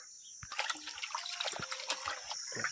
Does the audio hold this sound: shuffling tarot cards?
no